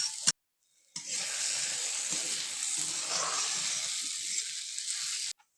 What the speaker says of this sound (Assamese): অকণমান সময় বেঙেনাখিনি কম জুইতে ভাজি থাকিম এনেকৈ।